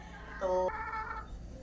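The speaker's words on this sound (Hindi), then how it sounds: "मुर्गियों को देखते हैं वो भी बोल रही हैं।" A hen gives a short, tonal cluck-like call over steady background noise, brief and moderately close.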